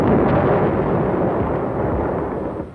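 Heavy rumbling explosions of naval bombardment on coastal cities roll on continuously, loud and deep, with no voices, like an archival war film soundtrack.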